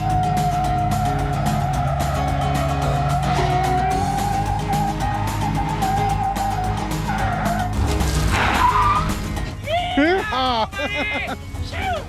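A truck's big American V8 roars steadily as tires squeal and smoke through a burnout, with voices shouting over the noise near the end.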